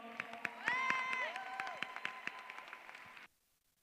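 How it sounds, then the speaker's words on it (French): A crowd at a para-climbing championship in Tarbes, France applauds steadily with scattered cheers and whistles, sustained clapping that stops abruptly near the end. "On peut applaudir pomeline Poirier, s'il vous plaît, bien fort"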